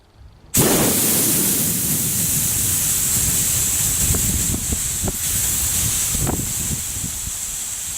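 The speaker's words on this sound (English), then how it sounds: "You'll need to turn this a little bit until you can hear the air and feel it coming out." A sudden, loud, steady hiss of compressed air leaking from the valve of a Hatsan AT44 PCP air rifle bursts on and keeps rushing out continuously, close by, with a few faint clicks underneath.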